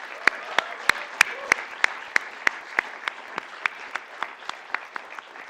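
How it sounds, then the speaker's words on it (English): Scattered applause from an audience at a stock exchange listing ceremony for Meesho Limited: sparse, distinct claps in an uneven rhythm that thin out and soften toward the end, heard clearly over a quiet room. "I think they deserve a big round of applause."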